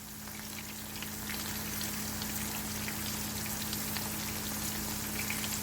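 Orange chicken pieces fry steadily in shallow oil in a pan, a dense, even crackle and hiss holding close and constant throughout, with a low steady hum underneath.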